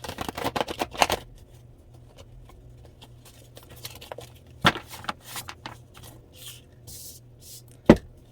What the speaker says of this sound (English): These cards are a little worn, so they're not as easy to shuffle.